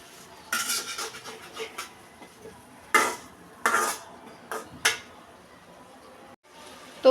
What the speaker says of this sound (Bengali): মিষ্টি কুমড়া দিয়ে দিলাম, এবার একটু নেড়ে চেড়ে আগে একটু কষিয়ে নিব।